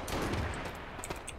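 Pistol shots in the survival game H1Z1 ring out as a few sharp, loud cracks, one early and a couple more close together near the end, over a dense, noisy in-game background.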